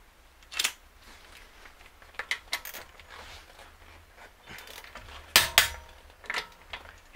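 A torque wrench tightens the wheel bolts on an Audi to 120 Nm in a crisscross pattern, giving sharp metallic ratcheting clicks and clacks in scattered bursts, close and fairly loud, with a prominent click near the end.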